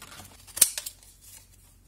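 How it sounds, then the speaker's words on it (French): Scissors snip through a small paper label during a craft card-making session, a few quick, faint crisp cuts clustered together in a quiet room. "Et on va venir découper sa petite étiquette."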